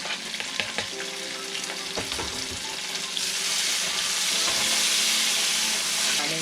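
Tomatoes frying in hot oil in a pan for a Nepali-style gravy fish curry, a steady loud sizzle with scraping stirs that swells into a fuller hiss partway through.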